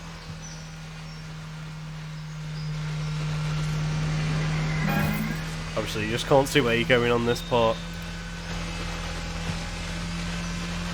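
A car in the Extreme Drift video game, with Wwise-driven engine audio, gives off a steady low-end engine rumble and drone throughout, while someone talks over it in the middle of the passage.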